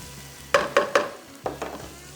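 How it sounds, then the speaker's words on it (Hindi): Ginger and garlic hit hot oil on high heat, producing a handful of sharp sizzling bursts as they are stirred and tossed, each flaring up loudly and then fading. "जैसे ऑयल गर्म हुआ, ये आ गया इसमें अदरक, लहसुन और तेज़ आंच, जहन में रखना है तेज़ आंच। इसको थोड़ा सा फ्राई किया"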